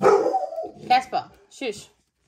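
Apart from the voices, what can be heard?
golden retriever barking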